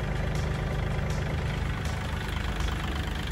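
A Kubota L4018 four-wheel-drive farm tractor's diesel engine idles steadily, a close, even low rumble with constant mechanical chatter and no revving.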